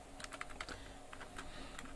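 Typing on a computer keyboard while entering an email address: quick, light key clicks in an irregular patter, close and fairly quiet, with no speech.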